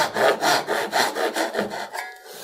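A hand saw cuts the shoulder of a wooden tenon in about eight quick, even back-and-forth strokes, close and clear, slowing and fading out at the end.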